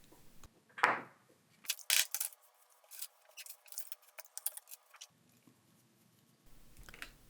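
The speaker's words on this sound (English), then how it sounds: "Now I'm going to cut here this flex cable." Scissors snipping through the flex cable of a Samsung Galaxy A03s phone screen during an LCD replacement: a few sharp close clicks and crunchy snips spread across the clip with quiet gaps, no speech.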